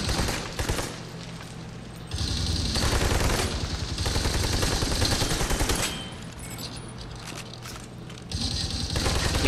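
Gunfire from the video game Army of Two: The Devil's Cartel, loud sustained bursts of shooting in two or three dense stretches, with quieter mechanical gaps between them.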